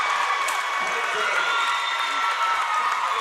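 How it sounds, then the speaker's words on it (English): A Weatherford high school basketball crowd cheers and roars after a slam dunk, a dense, sustained wall of shouting and applause filling the gym, with a commentator's voice over it. "Now the Weatherford crowd into it."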